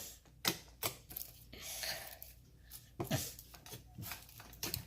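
Blue slime stretched and squeezed by hand, giving quiet, close clicky pops and squishes at irregular intervals.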